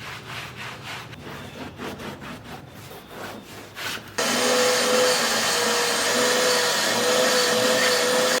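Brushing and rubbing scratches away at a car seat, then a vacuum cleaner switches on with a loud, steady whine that keeps running as it cleans the seat.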